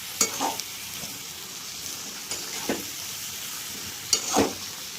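Spiced paneer and vegetable curry with green chillies sautés in a pan, a soft steady sizzle broken by a few sharp scrapes and stirs of the spoon.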